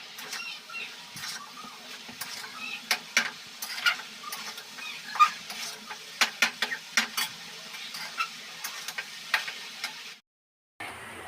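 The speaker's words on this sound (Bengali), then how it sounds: "পেঁয়াজটা দেওয়ার পর আমি আবার শাকটাকে নেড়ে দিচ্ছি।" Leafy greens and onion frying in a pan on a kitchen stove while being stirred for a vegetable curry: a steady sizzle broken by frequent sharp scraping taps of the spoon. The sound is fairly close, with a brief silence near the end and no talk.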